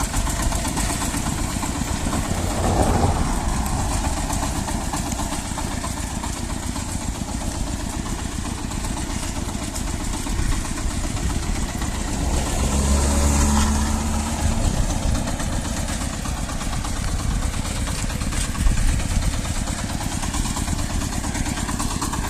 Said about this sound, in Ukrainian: На даний момент трактор їде, бачите, не димить, все нормально.